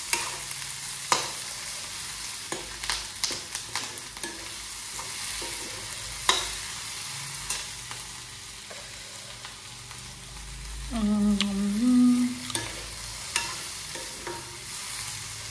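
Potatoes frying in a pan, a steady sizzle with repeated sharp scrapes and knocks of a utensil stirring them, and a louder burst of stirring near the end.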